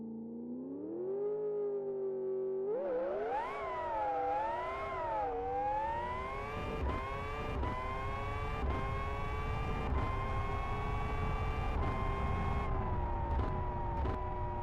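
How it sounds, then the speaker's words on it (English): A Formula 1 car engine in the Live for Speed racing game whines loud and high, revving up through the gears with sharp rising pitch sweeps and brief dips at each shift, running alone without talk. "Let's try and see what this Formula 1 car is like."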